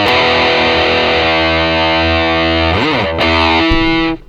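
Electric guitar on a patch B verse tone, a loud, fuzzy distorted note held and sustained with a wobbling bend near the end before cutting off.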